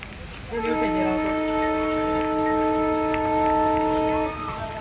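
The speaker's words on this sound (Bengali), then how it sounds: "হর্ন মারছে, ছাড়বে এক্ষুনি ট্রেন।" A long, steady horn from the Saraighat Express as it prepares to depart, sounding as several sustained tones for about four seconds, loud and close over a station background.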